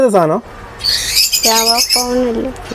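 Caged finches and other pet birds at a bird and plant farm give a few harsh, close squawks with a brief tonal call in between, loud and clear.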